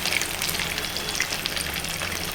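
Chicken pakoda pieces fry in about half a litre of hot oil, a dense, even crackling sizzle heard up close and alone for a couple of seconds.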